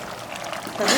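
Water poured into a cooking pot of sambar vegetables including sweet potato, a short rushing pour that swells louder toward the end.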